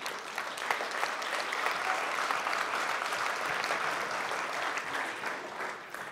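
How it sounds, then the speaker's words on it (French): An audience applauds steadily for André at a French political speech by a radical-social-liberal party co-president, dense hall-wide clapping sustained for about six seconds with no voices. "On peut l'applaudir."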